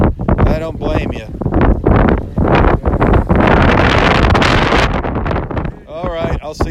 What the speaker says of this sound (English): It's getting really windy. It is really kicking up out here.